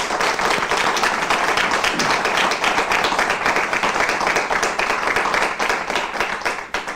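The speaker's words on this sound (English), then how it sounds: "I hope our audience members will give both of our candidates a round of applause." A debate audience gives both candidates a sustained round of applause, a thick, steady patter of many hands clapping for several seconds before thinning out at the end.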